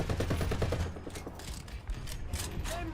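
Machine gun fire from a tank in a video game, a dense, continuous rattling burst of rapid shots heard loud and close throughout, with no voices.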